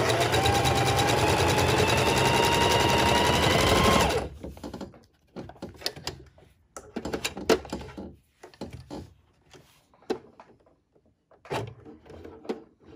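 A sewing machine stitching a neck bone pillow runs in one steady, close, loud whir for about four seconds, then stops and is followed by scattered handling knocks and rustles of fabric.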